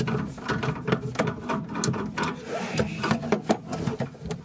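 Metal wrenches click and scrape while loosening the gas line to the stove in a popup camper galley, a close series of irregular ratcheting taps and rattles.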